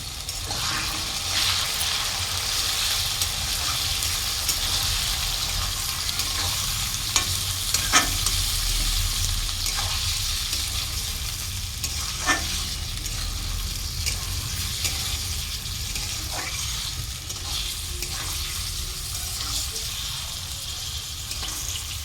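Lightly browned onions and meat fry in a pan for Gobindobhog rice tehari, a continuous loud sizzle with occasional spatula knocks and scrapes throughout.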